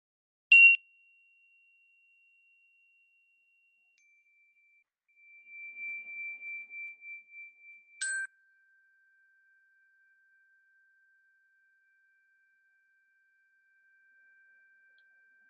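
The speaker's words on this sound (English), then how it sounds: "I'm going to ring the chimes 3 times to begin and end" Meditation chimes struck to open a guided session: a bright, sustained tone rings out, a second long note follows, then a third struck tone with a long fading tail, each alone in a quiet room.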